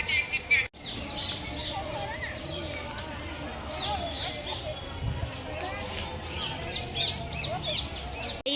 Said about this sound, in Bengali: আর এখানে তো অনেক কটাই পাখি আছে, পাখির ডাক তোমরা শুনতে পাচ্ছ